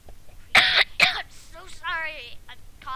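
Two sharp throat-clearing coughs from a person playing a Minecraft lucky block modpack, loud and close, followed by brief voiced sounds and speech.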